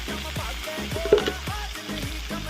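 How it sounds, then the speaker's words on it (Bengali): Paneer frying in a home pan with black cumin and salt, giving a steady close sizzle with a few soft scraping stirs and small pops throughout. "পনিরটা ভাজা বসিয়ে দিয়েছি"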